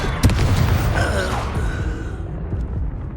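Expelliarmus spell cast in Hogwarts Legacy, a loud booming blast with a whooshing tail that fades over a few seconds, alone without talk.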